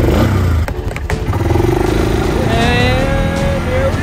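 A tiny car drives along a sidewalk, its small motor droning steadily and loudly throughout, with a rising whine building toward the end and brief clatters early on.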